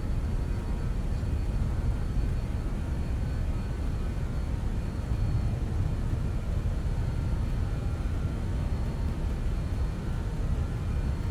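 BAE 146 jet engines at takeoff thrust during the takeoff roll, a constant heavy roar with deep rumble, steady and loud for the whole stretch.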